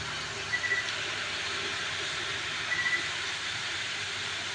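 A waste oil stove made from a thin can burns with a steady, forceful roaring hiss of flame and rushing air, continuous and close, with a couple of faint knocks.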